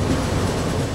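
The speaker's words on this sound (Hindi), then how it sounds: "अभी हमारी ट्रेन का जो अराइवल है वो भरतपुर जंक्शन पे हो रहा है।" Delhi Ajmer Shatabdi express train pulling into Bharatpur Junction, heard as a loud, continuous rumble of rolling carriages close by with no talk.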